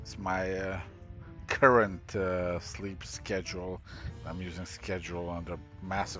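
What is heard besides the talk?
No everyday noises stand out.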